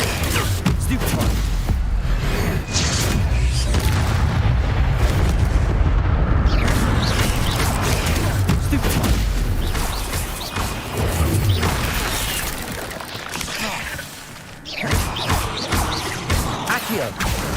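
Spell combat in Hogwarts Legacy with a cast Incendio fire spell: dense, loud crashes, booms and whooshing bursts layered continuously, with a player talking over the action throughout.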